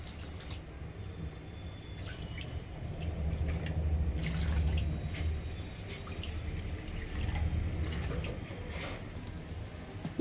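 Water poured from a cup into rava dosa batter, a steady low pouring and trickling with faint drips, fairly close and continuous for about ten seconds, with no talking.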